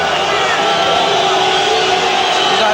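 A boxing arena crowd cheers and roars in a dense, continuous wash as a fighter walks from the dressing room to the ring, loud throughout with a commentator's voice mixed in.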